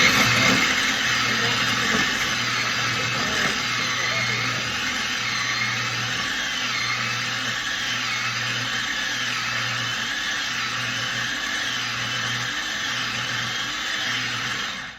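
A Pampered Chef food processor whirs steadily for about fifteen seconds, blending cucumber for canapés in a home kitchen. The motor hum stays loud and even throughout, with no talking.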